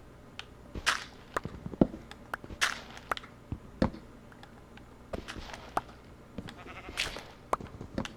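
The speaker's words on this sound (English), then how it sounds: "watch these sheep chill out with these piggies" Sheep bleat in the video game Minecraft, several short separate bleats popping up irregularly over a quiet background along with faint soft taps.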